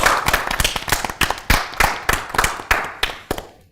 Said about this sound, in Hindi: आप अपने लिए तालियां बजा सकते हैं